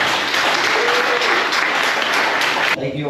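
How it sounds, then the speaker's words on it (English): Audience applause at an artist conversation event, steady loud clapping filling the room throughout. "let's give a big round of applause"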